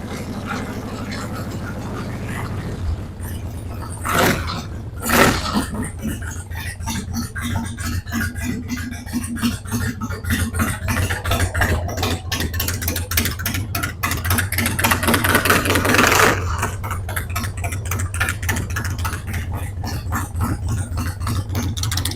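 An engine fitted with an S&S Super E carburetor idles steadily while warming up, a continuous low rumble with rapid rhythmic pulses and a couple of brief louder blips.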